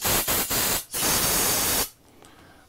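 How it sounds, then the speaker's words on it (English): Compressed shop air blasts through a cut air conditioning hose tube to clear out debris, a loud close hiss in bursts with brief breaks before cutting off and leaving a quiet tail. "Blow that out to make sure we get all the debris out of the tube."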